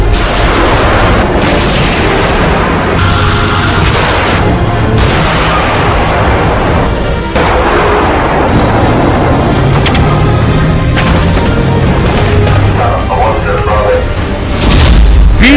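British Challenger 2 tanks firing during training for Ukrainian soldiers in Britain, heard as heavy, rumbling booms and blasts that run loud and nearly continuous, with a sharp burst near the end.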